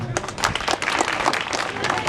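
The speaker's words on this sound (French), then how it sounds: "je vous demande tout simplement d'applaudir cette Assemblée" A burst of audience applause, dense clapping throughout with voices audible underneath.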